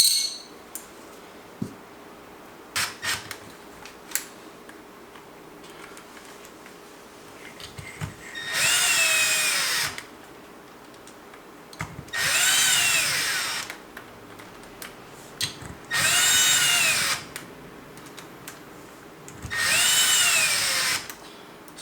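An air impact gun set low for 6 foot-pounds drives in clutch bolts on a Yamaha YZ250 Hinson clutch. It gives four loud, close bursts of buzzing hammering about two seconds each, spaced by small metallic clinks and handling noises.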